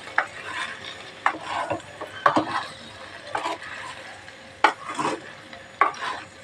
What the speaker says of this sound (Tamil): அடுப்பு ஸ்லோ பண்ணியே நம்ம கொஞ்சம் கிண்டி விட்டுறலாம்.